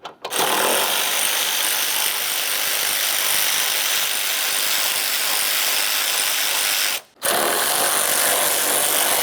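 A power tool runs continuously on the two 10mm radiator mounting bolts, one on each side, loud and close with a brief pause near the end before resuming.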